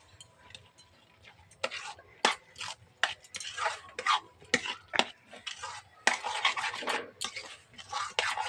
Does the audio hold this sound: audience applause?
no